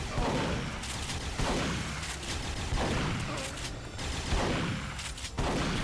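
Repeated heavy shots in Duke Nukem Forever, each blast followed by a decaying boom, spaced about a second apart over a loud, busy game backdrop.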